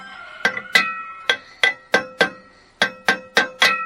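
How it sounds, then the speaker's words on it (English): Sharp metallic hammer taps ring out in quick irregular bursts, about eleven close strikes with bright clinking tones, no talking, as a part is tapped into place on a 1972 VW Beetle axle beam. "just a couple light shots with a hammer will get it on there"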